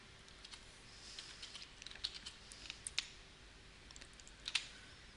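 Quiet typing on a computer keyboard while entering spreadsheet text: scattered soft key clicks in an uneven rhythm, close but faint over a low background hiss.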